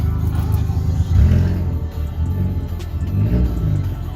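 A loud Mk4 1.8T car engine rumbles and revs up close after a downpipe replacement, with a deep, throaty exhaust drone that swells and eases over several seconds.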